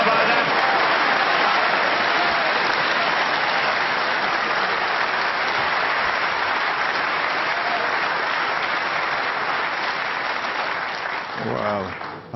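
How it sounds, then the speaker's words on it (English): Sustained loud applause from a snooker exhibition crowd carries on for several seconds, dense and steady before tapering off, with a voice starting at the end. "that round of applause, it sounded like he just won a tournament"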